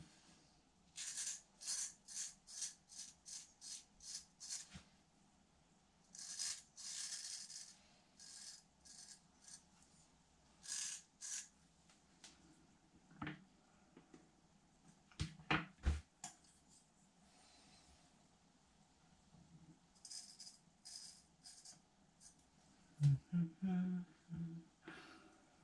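A razor blade shaves through lathered shaving foam on skin. Quiet, close, rasping scrapes come as series of short strokes in clusters, separated by pauses, with faint handling sounds between them.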